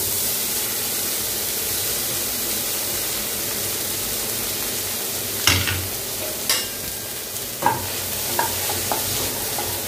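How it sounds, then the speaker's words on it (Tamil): Garlic and parboiled potato pieces sauté in oil in a pan for a quick garlic-potato fry, giving a continuous loud sizzle with a few sharp clinks of a utensil scraping the pan near the end. "பூண்டு லேசாக வதங்கிட்டு இருக்கும்போது நம்ம வெந்நீரில் போட்டு வச்ச உருளைக்கிழங்கு"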